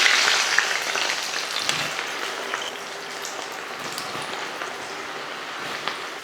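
Thinly sliced onions hit hot oil in a kadai while cooking Hyderabadi mutton biryani, giving a steady, loud, rain-like sizzle and crackle that continues without a break.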